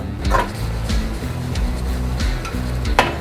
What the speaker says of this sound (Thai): ผมจะผัดให้มันสุกก่อน